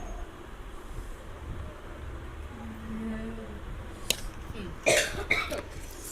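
A couple of short, sharp coughs near the end after a stretch of quiet background hum.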